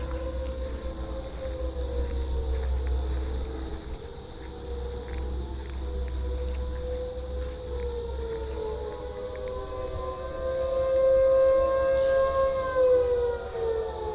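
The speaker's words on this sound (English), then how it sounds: "I'm worried about this siren test." An outdoor tornado warning siren test wails from a distance, a long rising and falling mechanical tone sweeping up and down over a low background rumble, with no voices.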